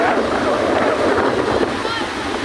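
Ocean surf breaking at Masao beach, a broad, continuous wash of waves mixed with wind buffeting the microphone, loud and close throughout.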